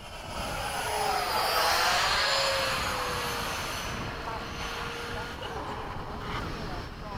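An F-15 jet engine on landing approach, a broad rushing roar that swells and then eases slightly as the aircraft passes, steady and moderately loud, with faint voices in the background.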